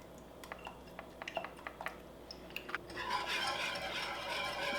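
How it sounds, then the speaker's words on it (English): A spoon stirs vegan gravy in a pot, first with light scattered clicks and scrapes, then a denser, louder swirling sound in the second half. "you just keep stirring till it comes to a boil and it will start thickening up"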